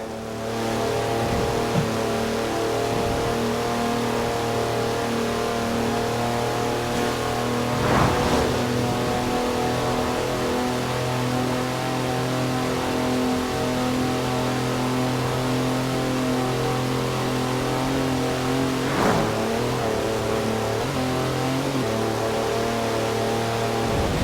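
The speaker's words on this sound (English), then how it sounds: "That's a 4-wheel drive car on mud tyres, completely sideways." A 4-wheel drive car on mud tyres drifts completely sideways in Forza Horizon 4, its engine droning with a steady, loud note for a long stretch, broken by two brief bursts of noise.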